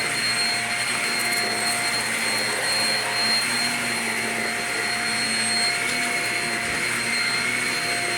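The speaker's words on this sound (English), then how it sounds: "I'm gonna vacuum my friend's rug that needs it" Shark self-cleaning Rocket vacuum running on a dirty carpeted rug, a steady loud motor whine with a constant high tone, unbroken and close throughout.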